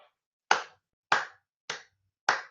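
Four slow, evenly spaced hand claps, about 0.6 seconds apart. Each clap is sharp, close and moderately loud, with silence between them.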